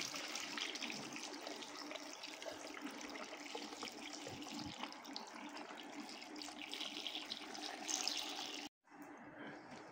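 Water poured into a pressure-cooking pot of Peshawari degi golden pulao after ginger-garlic paste, a steady rushing splash that runs for several seconds, then cuts off abruptly near the end.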